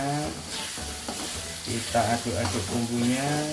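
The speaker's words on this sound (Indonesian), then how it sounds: "kita aduk-aduk bumbunya" Spice paste for jengkol rendang sizzles and crackles steadily in a hot wok while being stirred, with scraping strokes and faint talking in the background.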